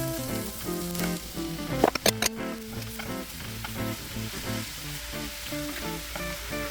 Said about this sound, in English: Adding the cold mushrooms to the hot pan is going to bring the heat down just a little bit